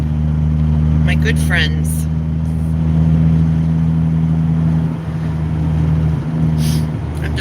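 Steady low engine drone from a car driving along a road on the way to work, constant and close inside the cabin, with a person talking over it throughout.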